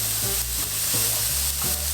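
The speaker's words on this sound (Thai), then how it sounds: "เราก็จะผัดนะคะ ผัดดอกกระหล่ำให้สุกก่อนนะ" Cauliflower florets stir-frying in a little oil, a constant close sizzle broken by several low scraping stirs of the spatula against the pan, with no voices.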